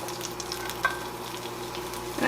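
Ramp bulbs frying in about a tablespoon of melted butter in a pan, a soft steady sizzle close by with a brief stir partway through.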